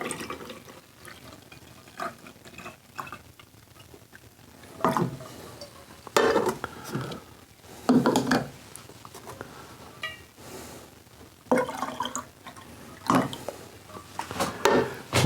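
Candy cane moonshine is poured into jars in a kitchen, with liquid gurgling and splashing in bursts over several seconds, mixed with glass clinks and handling noises at close range.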